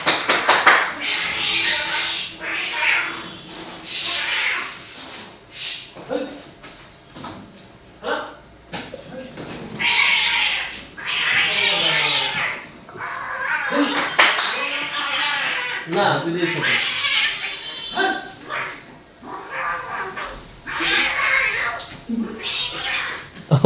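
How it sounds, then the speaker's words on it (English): Two cats, a house cat and a wild cat, fighting at a house, with loud yowling, shrieks and caterwauls in repeated bursts over about twenty seconds, close by and fierce. "Another wild cat came to my house and they two started fighting."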